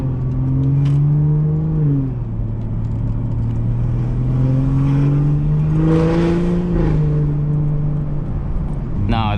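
A car engine hums steadily close behind, its pitch sliding up and down as it accelerates and eases off on the road, with a passing whoosh near the end.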